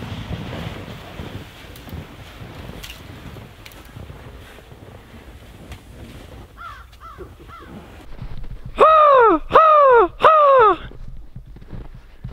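Crows caw over steady wind noise outdoors near a woodland cabin: a few fainter caws, then three loud, harsh caws in quick succession, close by.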